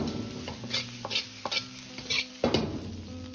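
Chili pepper pieces and Sichuan peppercorns are stir-fried in a wok over medium-low heat with chili paste, ginger and garlic in red oil. A steady sizzle runs under repeated scraping spatula strokes, about five tosses at an uneven rhythm, close and clear.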